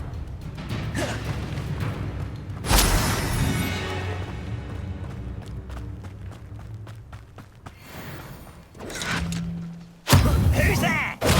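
In the Hogwarts Legacy video game, cast Confringo spells strike with heavy thuds and crashing impacts, one loud blast early and another near the end, with rumbling combat noise and some voices in between.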